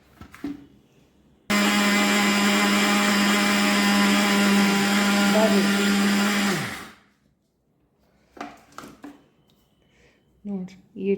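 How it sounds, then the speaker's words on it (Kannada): A mixer grinder whirs loudly and steadily for about five seconds, grinding spices into a fine chutney powder, then winds down and stops; brief speech follows in the quiet afterward. "ಇದನ್ನ ಮಿಕ್ಸಿ ಒಳಗೆ ಮಿಕ್ಸ್ ಮಾಡ್ಕೊಂಡು ಬರ್ಬೇಕು"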